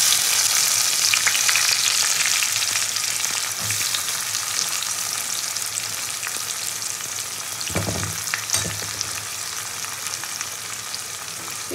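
Chopped onions frying in a pan on top of fried whole spices, ahead of about a kilogram of chicken, a steady close sizzle throughout with a few clanks of stirring.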